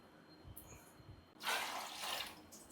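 Water is poured into a cooking pot while biryani is being made, a faint quiet stretch followed by a brief splashing pour of about a second, then a second softer pour.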